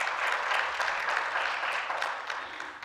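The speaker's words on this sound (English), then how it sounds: "we should give UP a round of applause for this achievement" Steady applause from an audience at a university postgraduate research event, a dense patter of clapping that holds at an even level for the whole stretch.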